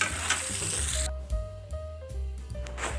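Sliced onion, dried chilli, bay leaf and whole cumin sizzle in leftover oil from frying fish, a steady close crackle broken by scraping stirs and a few sharp tones.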